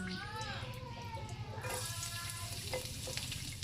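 Garlic sautéing in a pan for a Kapampangan pork giniling with pork and beans, a steady sizzle with stirring scrapes under a voice talking over it.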